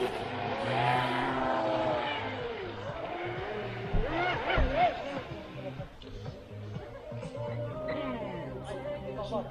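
A Sonicwake boat motor running, a fairly new engine, steady mechanical drone with a rising whine midway, heard under people talking and commenting nearby.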